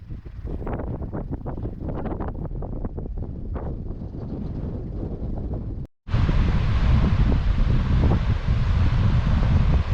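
Gusty wind buffets the microphone at a lookout above Victor Harbor, South Australia, in loud rumbling bursts, cuts out for a moment, then returns as a heavier, steady roar.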